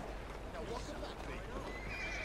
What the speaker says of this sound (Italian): Questi passano a cavallo.